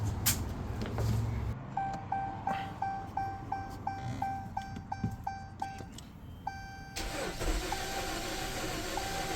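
2015 Chrysler 200 that sat parked for over a year, starter cranking in a rapid rhythmic churn for several seconds with a repeating dashboard chime, brief pause, then cranking again, fairly faint and close.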